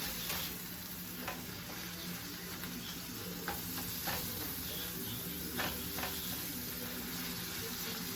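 Ground meat for sweet and spicy chili sizzling in a pan, a steady close hiss broken by occasional stirring scrapes.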